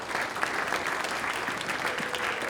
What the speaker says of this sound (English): can I get a round of applause for ATV